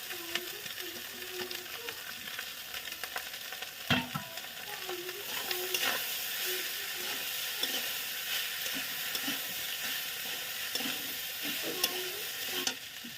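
Rice frying in a pan while being stirred, a steady close sizzle with scraping spatula strokes and one sharp knock partway through; no voices.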